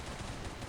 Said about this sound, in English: a blunderbuss, like a shotgun